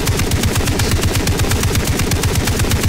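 Rapid automatic gunfire in Far Cry 3, a loud, fast, evenly spaced stream of shots repeating without pause for a few seconds.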